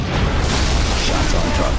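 Frag grenade blast in Halo Reach aboard a Corvette, a dense, loud rumbling burst that fills the whole moment with low boom and crackling debris, mixed under game noise and voices.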